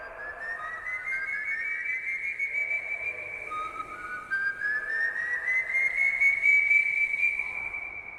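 Long, rising whistled notes slide upward and hold, twice in a row, fairly loud and eerie against a faint background hum, with no talking.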